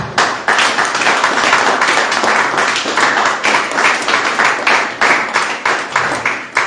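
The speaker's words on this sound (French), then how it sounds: "On acclame Dieu pour son choix." A church congregation claps together in a steady, loud, rhythmic burst of applause that fills the whole stretch, with a roomy, crowded sound and no voices rising above it.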